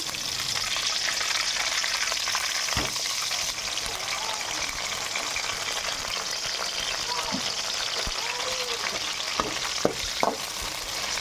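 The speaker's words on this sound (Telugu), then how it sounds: "నూనెలోనే ఇది బాగా వేగాలి." Eggplants fry in plenty of hot oil with a continuous close sizzle and crackle, punctuated by a few light clinks of a utensil. Faint talk is mixed in.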